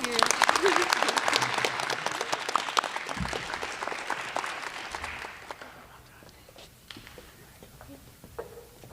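Applause for award recipients at a high school class ceremony starts dense and lively, then thins out over the last few seconds to scattered claps and quiet murmuring.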